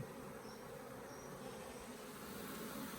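Honey bees crowding a hive feeder during a move from mini-plus boxes to nucs, a faint, steady buzzing drone with no breaks and no voices.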